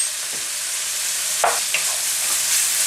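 Pork stir-frying in a wok with a steady hiss of sizzling oil, punctuated by a few sharp scraping stirs of the spatula; no talking.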